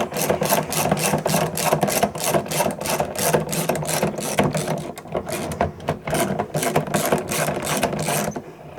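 Bolts on a Viking Reload tackle pod fitting being tightened: a steady, fast, rhythmic ratchet clicking repeats close up for the whole stretch, briefly slowing and stuttering midway before resuming, with no voices.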